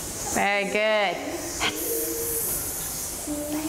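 A teacher speaks briefly in a Year 1 classroom, then children voice a short breathy hiss imitating a snake, with a few quieter hissy breaths after.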